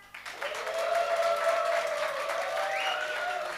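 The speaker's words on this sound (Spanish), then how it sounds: "Fuerte los aplausos para hermana Silvia." An audience applauds Sister Silvia at the third-anniversary music festival of the Grupo Canto de Esperanza, clapping swelling after a quiet start while a sustained tonal voice or note rings over it.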